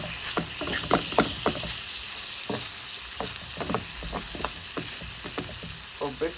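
Onion, carrot and mushroom fry in butter in a pan, a steady loud sizzle broken by frequent scraping stirs and clinks, close up with no voice over it.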